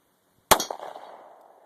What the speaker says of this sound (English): Ryder shooting a 40 caliber Glock